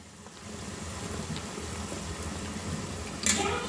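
Donuts fry in oil over a low flame with a soft, steady bubbling hiss, close and even, then a brief louder sizzling burst near the end.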